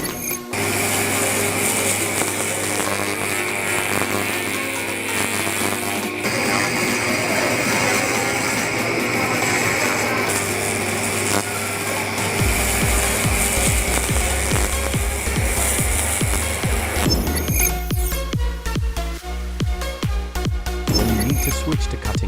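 A Yueming 3-in-1 handheld laser welding machine runs in cleaning mode, giving a continuous mechanical whir and buzz with a rapid ticking rattle that intensifies partway through, close and steady throughout.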